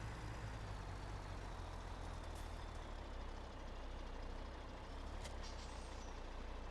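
Heavy truck in Farming Simulator 17 idling with a steady low engine drone, loud and close, with short sharp hisses of air brakes releasing around the middle and near the end; no talking.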